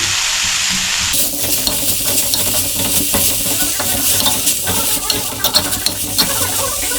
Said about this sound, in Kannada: ಗೋಂಗೂರ ಸೊಪ್ಪು ಹಾಕ್ತಿದ್ದೀನಿ, ಸ್ವಲ್ಪ ಟೇಸ್ಟ್ಗೆ ಜೀರಿಗೆ ಹಾಕ್ತಿದ್ದೀನಿ